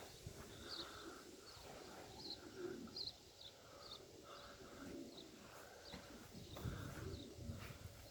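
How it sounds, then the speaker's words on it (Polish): Soft, low pigeon coos repeat at intervals, faint and close, over quiet background rustling. "To już będą starsze gołębie."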